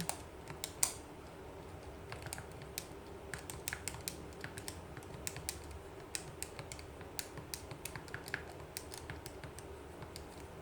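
Rapid typing on a computer keyboard, with sharp key clicks in quick irregular bursts over a steady low room hum, fairly quiet and with no talking.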